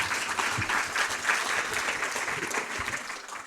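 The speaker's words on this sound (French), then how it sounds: "Chers trois maires, on peut les applaudir déjà." A hall audience at a town mayor's New Year greetings ceremony claps for three mayors, producing a dense, steady wash of applause that runs throughout and tapers slightly at the end.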